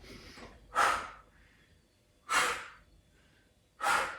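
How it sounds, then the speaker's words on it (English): Noisy breathing during a yoga HIIT workout: three forceful, airy exhales spaced about one and a half seconds apart, close and distinct, with quiet pauses between and no talk. "Nice noisy exhales on the other way."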